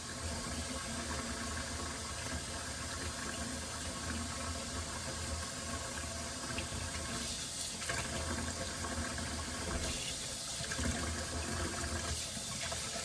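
Tap water runs steadily and close by while tomatillos are washed in a sink for salsa verde, a continuous broadband splashing with a few brief surges, and no talking over it.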